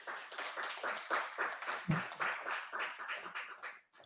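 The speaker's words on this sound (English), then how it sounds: "just a round of applause, folks" Audience applause at the close of a presentation, a steady wash of many hands clapping throughout with small swells, moderately loud and without speech.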